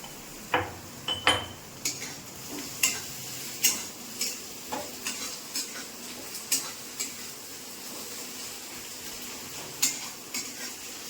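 Crushed ginger and garlic fry in a pan with browned onions while a utensil stirs, giving repeated sharp scrapes and clinks over a steady background sizzle.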